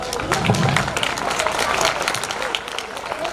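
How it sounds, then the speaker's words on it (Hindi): An audience applauds donors being honoured on stage at a Bhamashah welcome ceremony in Madiya, with vigorous, dense clapping from many people mixed with crowd murmur throughout. "जोरदार तालियों से इनका अभिनंदन।"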